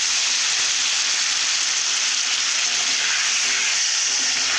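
Spices sizzle and fry steadily in hot mustard oil with a splash of water, a loud, continuous close-up hiss with no talking.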